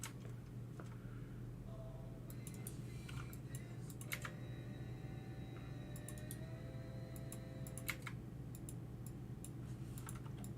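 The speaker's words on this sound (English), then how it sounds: "Keyboard clicks, whatevs." Computer keyboard keys click in irregular rapid clusters, soft and close, over a steady low hum with faint tonal notes.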